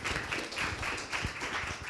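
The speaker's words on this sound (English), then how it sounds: "Give another applause, please." Audience at a cyber meetup giving a round of applause, a dense, moderate clatter of many hands clapping at once that keeps a steady level throughout, with no one speaking.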